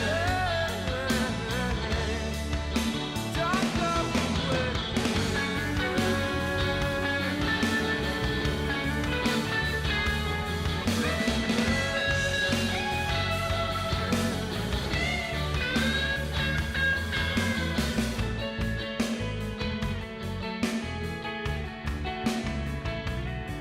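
Full band music playing a song, a dense continuous mix of guitars, drums and vocals, loud and steady throughout without speech over it.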